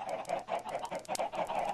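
Blocky chickens in Minecraft cluck in a quick string of short, mid-pitched calls, several bursts in a row, clear and fairly close with no talk.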